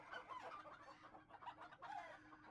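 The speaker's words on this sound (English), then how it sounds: "Listen to them chickens go." Chickens clucking, a quiet run of several overlapping soft clucks and murmurs close by, with no talk over them.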